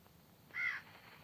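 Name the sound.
crows cawing in a Minecraft-style video game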